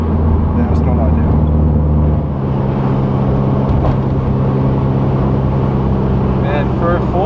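A 4-cylinder car engine chugs along in sixth gear with a loud, steady low drone that dips slightly partway through, while people talk over it in the cabin.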